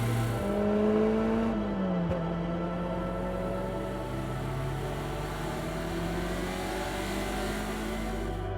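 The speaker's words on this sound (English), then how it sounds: "hearing that engine roar, it's definitely something special" A 1990s Nissan Primera race car engine roars steadily and loudly, its pitch gliding up and down through gear changes, with no voices over it.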